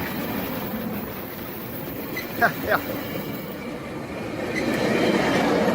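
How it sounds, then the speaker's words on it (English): A commuter train rumbles past close by in San Diego with a continuous rolling roar and rhythmic wheel clatter, growing louder at the end; a person speaks briefly. "My first time seeing the coaster chargers actually running under their own power."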